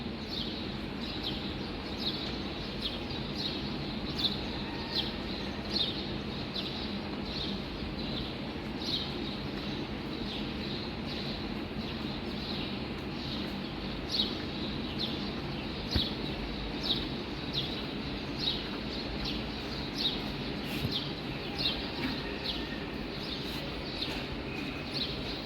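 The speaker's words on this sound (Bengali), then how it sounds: "চড়ুই পাখিগুলো শব্দ পাচ্ছেন।" Sparrows chirping near a garden with vine spinach plants, giving short, bright, repeated chirps at a fairly regular rhythm over a soft, steady background hum, moderately distant and faint.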